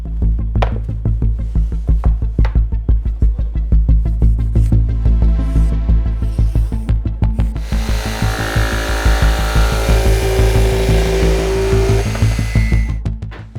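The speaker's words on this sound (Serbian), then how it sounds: "Sada mogu da prenesem oblik na svoju ploču i grubo ga isečem ubodnom testerom." A jigsaw roughly cuts a shape from a wooden board for a DIY multifunctional trainer, giving a loud, steady buzzing rasp with a steady throb that runs through the whole stretch, alone and with no talking.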